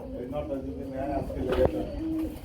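At a pigeon market, pigeons coo in soft, repeated throaty phrases close by, mixed with market chatter as people talk over them.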